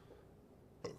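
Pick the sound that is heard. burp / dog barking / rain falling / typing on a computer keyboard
burp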